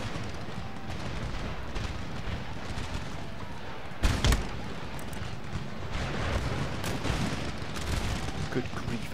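Warship cannons fire in Empire Total War, a dense, rumbling barrage of booms close and distant with one sharp, louder blast near the middle, continuing as a heavy wash of battle noise.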